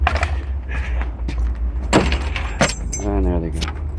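Keys to a 1984 Lincoln Continental Turbo Diesel in a junkyard jangle and clink close by in quick metallic bursts over a low engine-like rumble, with a voice talking at moments.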